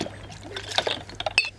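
Fresh water sloshes and splashes as a bottle is rinsed out, a few quick irregular liquid gurgles and drips close by, with no talk.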